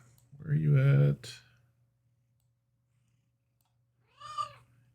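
A cat meows loudly and close by in a long, drawn-out call, then gives a second, shorter meow after a few seconds of near silence over a low hum.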